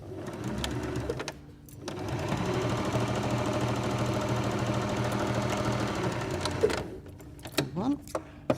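An electric sewing machine stitching fabric strips right sides together runs in a steady, fast whirring hum for several seconds, then stops, with quieter clicks and handling afterward.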